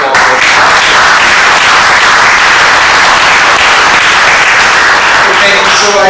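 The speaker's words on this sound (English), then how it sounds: "So a big applause." Loud, sustained applause from a conference audience thanking the workers, a dense wash of clapping that fills the room evenly for about six seconds with a few voices mixed in.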